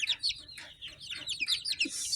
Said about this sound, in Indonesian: Ayam petelur yang sengaja saya pelihara untuk selingan nih.